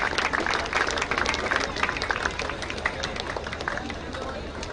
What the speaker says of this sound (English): Can we have a round of applause for a wonderful match that we had today at the MIG Cricket Club badminton